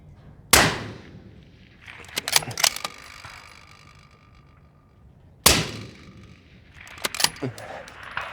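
Two sharp rimfire rifle shots fired through an Otter Creek Labs Infinity suppressor brake, each a loud close crack several seconds apart, followed by clicks and mechanical rattles of the action.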